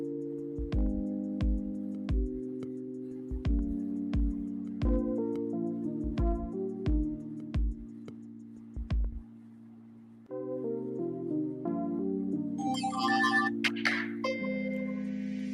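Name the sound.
phone notification sounds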